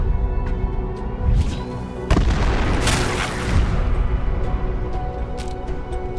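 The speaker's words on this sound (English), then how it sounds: "Oh, bro's throwing a bomb." A thrown bomb detonates in Dune: Awakening with a loud, deep boom, followed by rumbling debris and scattered sharp pops and clicks amid ongoing game noise.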